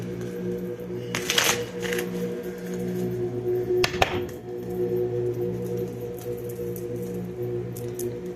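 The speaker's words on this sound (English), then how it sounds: "I'm just gonna go ahead and shuffle these 3 times." Tarot cards being shuffled by hand, soft riffling and slapping bursts, two sharper card snaps near the start and middle, close and fairly quiet over a faint steady background hum.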